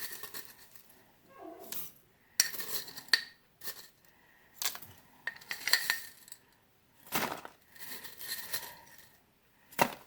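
Dehydrated cannellini beans rattle and clatter as small spoonfuls are measured into a jar for a beef chili meal, several short, close bursts of hard dry pattering separated by quiet gaps.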